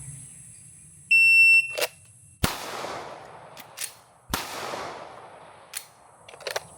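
A shot timer gives a single electronic beep, then two loud, sharp pistol shots ring out about two seconds apart during a draw, shoot, reload and shoot drill, each with a short echoing tail and some faint handling clicks between them.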